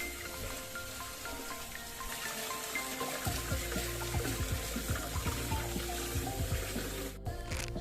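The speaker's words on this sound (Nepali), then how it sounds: "चिसो पानीमा पखालिसकेपछि मजाले पखालिसकेपछि यो स्पागेटीलाई तपाईँले एउटा साइडमा राखिदिनु होला।" Cold tap water runs over cooked spaghetti as it is rinsed, a steady splashing rush with irregular patters and drips, close by and continuous without speech.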